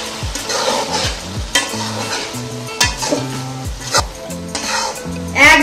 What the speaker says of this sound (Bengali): এখন আবার একটু নেড়ে নিচ্ছি।